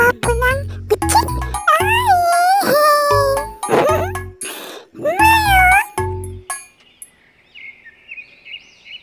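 A cat meows several times, close and loud, in a run of drawn-out, pitch-bending cries with short gaps, followed by faint high tinkling chirps as it fades out.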